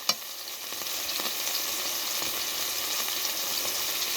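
Sausage frying in an electric skillet, a steady close hiss and sizzle of fat with faint pops and crackles running continuously throughout.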